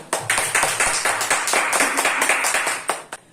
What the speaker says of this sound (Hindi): यीशु मसीह के लिए अच्छी ताली बजाएं।